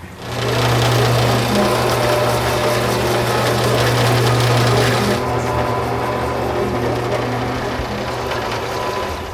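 An oil well pump at Drake Well, on a well drilled in 1861 and still producing, runs with a loud, steady mechanical drone that continues alone throughout.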